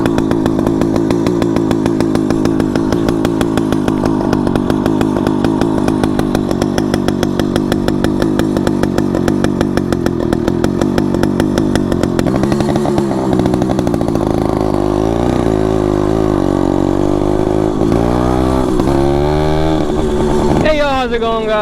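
Small gas engine on a motorized bicycle runs loud and close, a raw rattling buzz like a chainsaw that holds steady, then revs and wavers in pitch toward the end; a person speaks over it.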